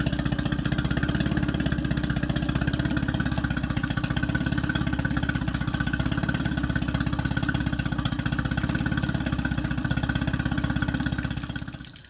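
A 2018 Mercury Fourstroke EFI outboard engine idles steadily during a hot freshwater flush, its even, close mechanical chug and hum holding constant for about twelve seconds before fading at the end.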